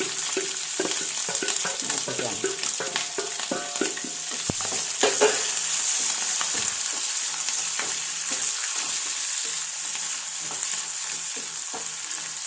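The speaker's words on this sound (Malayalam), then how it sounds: "ഇതിലേക്ക് ഇഞ്ചി വെളുത്തുള്ളി പച്ചമുളക് ഒരുമിച്ച് ഇട്ടങ്ങ്" Ginger, garlic and green chili sizzle steadily in hot oil in a pan while pickle is being made, with a constant hiss and scattered scraping stir strokes, close and fairly loud.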